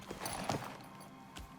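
A horse in the survival video game Icarus gives a short burst of clip-clop hooves and a faint whinny, quiet and brief, heard alone.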